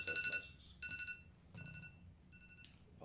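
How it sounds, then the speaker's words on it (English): A phone alarm goes off in repeated electronic tone bursts, bright and beeping with short gaps between them, heard fairly close with faint background noise. "It's an alarm."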